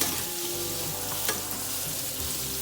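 Onions and shrimp sizzle steadily in a non-stick pan with no oil, a continuous close frying hiss with a brief sharper crackle partway through.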